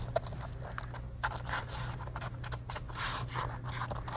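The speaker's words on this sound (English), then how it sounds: "I'll cut the backer rod there, and I'll move to a slightly smaller size." Foam backer rod for a log wall gap is cut with scissors, producing a quick series of close, rasping snips and scrapes over a low steady hum.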